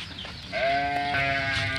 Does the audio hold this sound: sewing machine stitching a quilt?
no